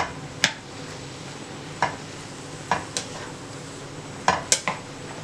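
Mushrooms and onions sautéing in oil in a pan, a soft steady sizzle broken by several sharp clinks of a utensil against the pan, no talk.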